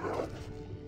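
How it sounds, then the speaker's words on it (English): A pet wolf in World of Warcraft gives a short, low growl, one brief rumbling snarl heard up close with no talk. "Oh, we can click on our wolf and he growls."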